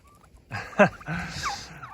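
Turkey toms and hens on a farm gobble and call up close, with one loud rattling gobble and several shorter yelps and clucks over a quiet barnyard background.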